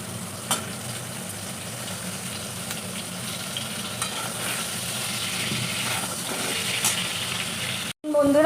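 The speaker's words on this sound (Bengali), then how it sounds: "এইভাবে পটলটা ভাজা হয়ে গেছে" Pointed gourd (patol) frying in hot oil in a pan, giving a steady close sizzle with occasional stirring scrapes throughout, ending in a brief cut.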